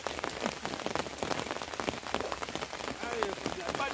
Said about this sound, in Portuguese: Pá de chuva.